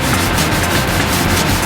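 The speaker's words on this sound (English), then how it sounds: "now I'm going to use a bit of 150 grit sandpaper to remove the 80 grit scratch marks" Steady, continuous scratchy rubbing of 150 grit sandpaper across car paintwork during a dent and scratch repair, loud and close with no pauses.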